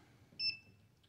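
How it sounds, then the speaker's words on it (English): A clamp-on electric meter gives a single short high-pitched beep after reading full voltage over 70 volts, clear and close against quiet background hum. "this particular meter beeps when it's had full voltage over 70 volts"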